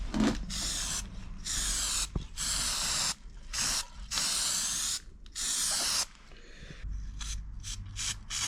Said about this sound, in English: I'm just going to put some more weld through primer